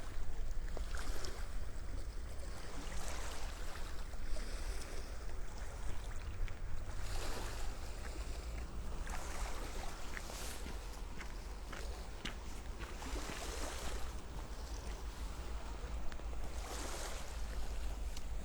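Low constant rumble of sea waves washing in at Strunjan on the Slovenian coast in winter, with wind noise and a few faint footsteps or knocks over the steady surf.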